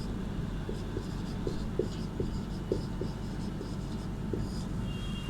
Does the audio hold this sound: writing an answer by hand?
yes